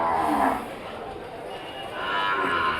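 At a busy Thursday cattle market in Krosuru with cows, calves and bulls, cattle give two drawn-out moos, one short call early and a longer one near the end, over a steady crowd murmur.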